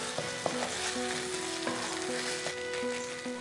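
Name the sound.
corn paste frying in a pan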